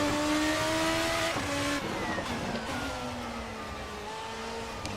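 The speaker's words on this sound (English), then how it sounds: "wonderful noise from that 4-liter Mechachrome engine" A 4-liter Mechachrome-lookalike race car engine in the Formula RSS 2 racing game drones at high revs, its pitch shifting through gear changes and lifts as the car brakes and accelerates. The engine note is continuous and close.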